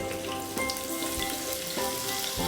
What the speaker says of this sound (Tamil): எண்ணெய் காஞ்சதுக்கப்புறம் பூண்டு, ஜிஞ்சர்,